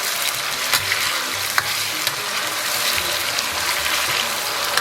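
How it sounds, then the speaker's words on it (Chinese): Pixian bean paste, chili sauce and a block of hotpot base stir-fried in hot oil for spicy maoxuewang, a loud, steady sizzle with scraping stirring throughout and no talking. "然后炒出红油。"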